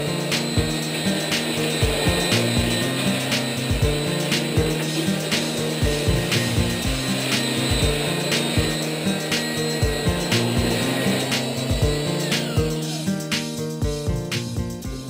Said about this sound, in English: I'm just going to take my belt sander to it and just smooth it out a bit.